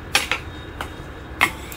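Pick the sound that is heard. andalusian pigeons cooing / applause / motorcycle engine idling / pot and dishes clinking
pot and dishes clinking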